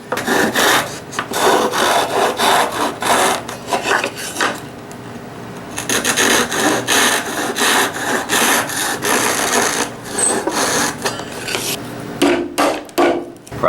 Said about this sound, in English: we just take our chisel, we line it up to our guideline there, and we cut this as so